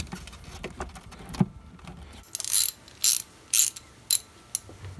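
Ratchet wrench loosening a bolt on the valve cover of a BMW 335i with the N54 engine, heard close up as four or five short, sharp ratcheting bursts after a quiet start.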